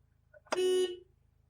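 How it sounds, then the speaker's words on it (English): One car horn honk, loud and close, held for about half a second before it cuts off, with a faint background hum around it. "We're going to honk once."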